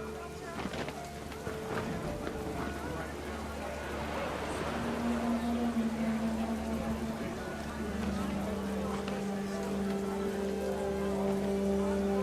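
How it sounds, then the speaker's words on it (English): Heavy rain in What Remains of Edith Finch drums steadily on a surface around a makeshift tent, a dense continuous patter under a calm narrating voice and soft music. "The rain came down in buckets then"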